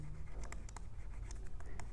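A pen writes numbers on paper, quick scratchy strokes and small taps in an uneven rhythm, close and soft.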